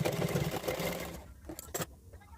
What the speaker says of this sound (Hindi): फिर हम इसे पलटकर अंदर से एक सिलाई लगा देंगे